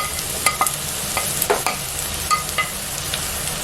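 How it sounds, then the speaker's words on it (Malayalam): Large bitter gourd pieces sizzle steadily as they sauté in a pan, with occasional clacks and scrapes of a spoon stirring them; no talking. "ഈ പാവക്കായ നമുക്കൊന്ന് ഫ്രൈ ആവുന്നത് വരെ ഒന്ന് വഴറ്റി കൊടുക്കാം."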